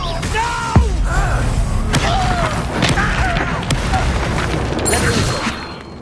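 Spell impacts from Expelliarmus casts in Hogwarts Legacy, a series of sharp crashing thuds and bursts in close succession amid busy game effects and swirling magic, with a voice calling out spells between the hits.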